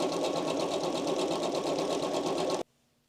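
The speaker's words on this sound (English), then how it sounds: "So you're going to keep going with your zigzag stitch all the way down." A sewing machine runs a zigzag stitch along a fabric edge, a steady, loud, fast-pulsing whir for under three seconds before it stops abruptly and leaves near silence.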